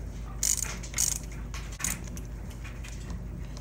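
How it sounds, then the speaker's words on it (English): Bolts on the brake master cylinder of a Yamaha R1 motorcycle being loosened with a hand tool, giving a few short metallic clicks and ratcheting clinks close by, with two sharper bursts near the start over a steady low hum. "We're just gonna loosen up the brake master so that I can"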